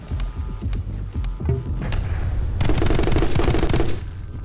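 Rapid bursts of gunfire from the action video game My Friend Pedro, loud and dense, with scattered shots early that build into a sustained automatic volley over the second half.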